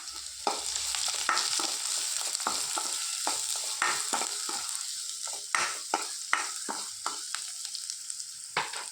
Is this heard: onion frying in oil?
yes